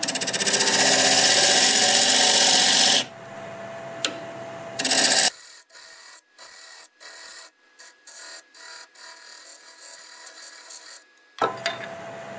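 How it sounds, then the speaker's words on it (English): A parting tool cuts a recess into a Spanish olive wood bowl spinning on a lathe: a loud, rough scraping at first, then a steadier whine broken by frequent short gaps. "Use my parting tool to get it going."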